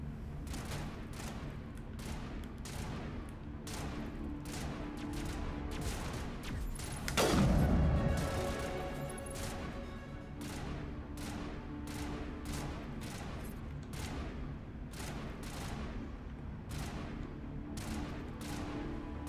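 Gunfire from Mass Effect pops in steady repeated shots across the whole stretch, with a heavier boom rising in the middle, moderately loud and continuous without talk.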